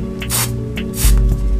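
Two short hissing bursts of deodorant spray sound up close, each a brief loud whoosh, over a low steady hum.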